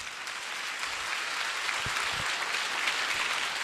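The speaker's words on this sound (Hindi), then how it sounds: "इस वचन के लिए और खुदा के लिए ताली बजाइए" Congregation at a church sermon clapping together, a dense, even wash of applause that carries on at moderate volume without talk.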